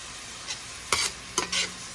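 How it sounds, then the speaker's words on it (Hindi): Onions sautéing on low heat in a pan for an aloo gobi, with a soft steady sizzle broken by a few brief scraping stir strokes, close and fairly quiet, no talking. "अभी इसे मैं हल्की आंच पे सौते करने के लिए थोड़ा ढक दूँगी"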